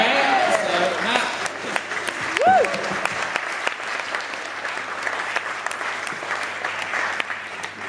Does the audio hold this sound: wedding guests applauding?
yes